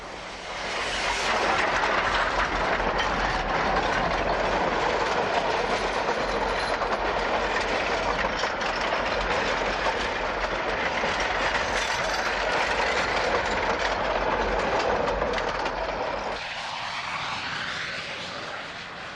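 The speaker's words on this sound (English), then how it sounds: "The train is up to track speed south of Alamosa." A diesel train rumbles past at track speed south of Alamosa, a loud continuous roar of engine and rolling wheels that eases off toward the end.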